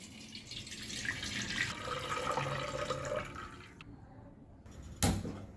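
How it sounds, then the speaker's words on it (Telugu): Melted sugar syrup is strained and poured from one pot into another vessel in a home kitchen, making a faint, steady trickle and splash that thins out, followed by a sharp metallic clink near the end. "కరగబెట్టుకున్న చక్కెర ఇంకో గిన్నెలో వడబోసుకోవాలి."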